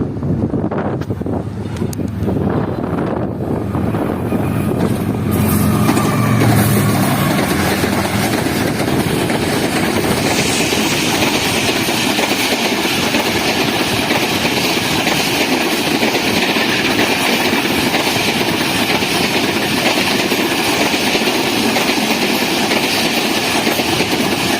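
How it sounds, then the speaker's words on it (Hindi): The Pakistan Express arrives at Dabheji station, a loud, steady rumble of rolling wheels and engine that fills the whole stretch, with heavy wind buffeting the microphone and no talking. "ये आ रही है 45 अब पाकिस्तान एक्सप्रेस।"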